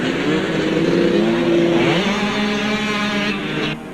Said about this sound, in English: William Jones from Ystrad Meirig, riding a Suzuki 125.